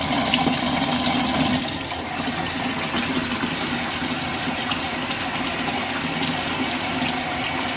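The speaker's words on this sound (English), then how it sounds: "So we're running 120 degree water from the 18 gallon storage tank through the tankless, coming out at 120 degrees" Hot water from an 18-gallon electric storage tank runs steadily through a tankless heater, a continuous rushing flow of water through pipes and fixture that holds an even level throughout, with no talking.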